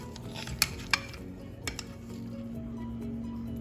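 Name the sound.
mutton chops being added and mixed in a pan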